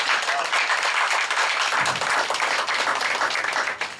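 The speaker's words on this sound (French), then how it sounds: "Applaudissez pour lui, s'il vous plaît." Audience applause fills a hall at a large family anniversary celebration, steady dense clapping throughout, loud and close, with no speech over it.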